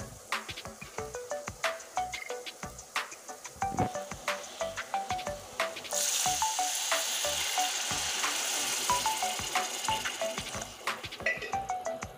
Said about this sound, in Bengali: এখানে বোতলে রাখা জল আছে, জলটা আমি এখন দিয়ে দিচ্ছি।